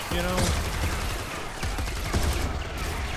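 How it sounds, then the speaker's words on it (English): A robot firing in Fortnite Save the World: dense rapid bursts of gunfire rattling continuously over chaotic game noise, close and fairly loud, with a brief electronic tone near the start. "You can also use this robot, which is gonna shoot, as you can see"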